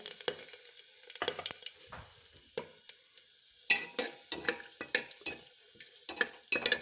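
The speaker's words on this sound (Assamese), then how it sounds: "প্ৰথমতে জিৰা 2টা দি দিছোঁ, ডালচেনি টুকুৰা এটা, আৰু লং 4-5টামান, আৰু কেইটামান জিৰা।" Cumin seeds, a piece of cinnamon and four or five cloves fry in a pan for pulao: sharp intermittent crackles and scraping stirs, close and clear, with no talking.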